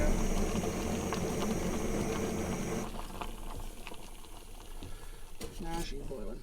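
Water boiling in a Jetboil camping stove inside a truck camper, a close steady bubbling hiss with the burner's roar that eases off midway, followed by faint clicks and handling sounds.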